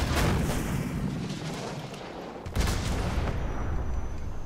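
A Stinger missile launches in Call of Duty Modern Warfare Remastered amid a dense, loud wall of explosive battlefield rumble, with a sharp fresh blast surging in partway through.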